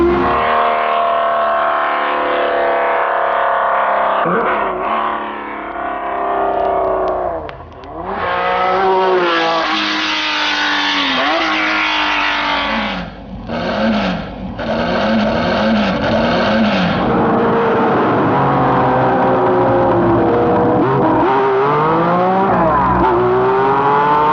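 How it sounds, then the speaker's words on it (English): A Porsche 906 race car with a six-cylinder engine roars loudly and close, revving up and down through gear changes, with brief dips where it backs off before climbing again to a high-pitched wail. "Then when the 906 with this fascinating six-cylinder sound came in, and then the 908s."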